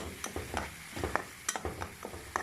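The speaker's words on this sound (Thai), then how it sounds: "แล้วก็คั่วให้หอม เครื่องแกงหอมก่อนนะคะ" Pounded chilli curry paste stir-frying in boiling coconut milk for a Thai pork curry with young tamarind leaves, quiet bubbling under a quick series of close spatula scrapes and taps.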